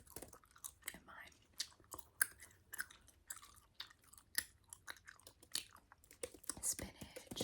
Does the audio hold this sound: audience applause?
no